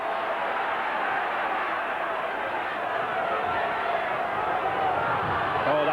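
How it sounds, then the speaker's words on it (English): Steady, broad roar of a rugby league crowd cheering at a Warrington v Widnes semi-final, sustained and even throughout with no clear breaks. "crowd really getting behind this Warrington side now"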